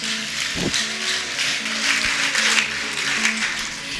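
A church congregation applauding in praise of God during a Kinyarwanda sermon: steady, dense clapping that rolls on throughout, with a low tone underneath.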